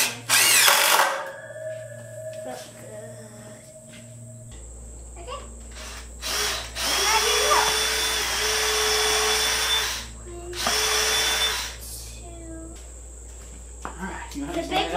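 A power drill drives screws in short separate whirring bursts of a few seconds each, close and fairly loud, with pauses and a steady hum underneath between them.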